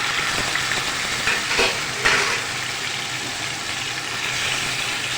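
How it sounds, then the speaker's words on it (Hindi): Boneless chicken frying with garlic, cumin and chili in a pan for spicy chicken spaghetti, with a steady, loud broadband sizzle throughout and a couple of brief louder bursts as pieces hit the hot oil; no talk. "उसके बाद मैं इसके अंदर बोनलेस चिकन ऐड कर दूँगी।"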